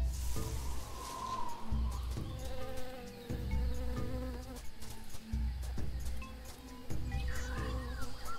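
Bees buzzing in a noisy jungle in the adventure game Tales of Monkey Island, a steady faint drone with recurring low pulses and scattered bird-like chirps, continuous throughout with no voices.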